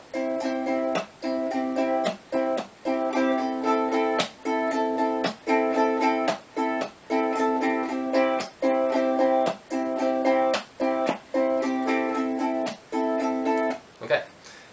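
A ukulele plays a chord strumming pattern, with chords changing just before the end of each one and steady strums cut by regular muted hits, close and clear.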